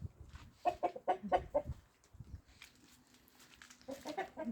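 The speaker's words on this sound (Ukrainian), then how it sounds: "Це дуже класний півень, його будуть залишати курочкам" A series of soft, rhythmic clucks from a rooster and hens nearby, pausing briefly before more clucking resumes, fairly quiet overall.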